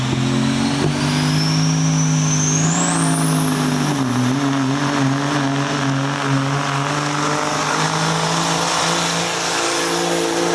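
A turbocharged pulling tractor engine at a tractor pull in Libertytown roars continuously and loudly, revving with its pitch rising and wavering over about ten seconds, no talk.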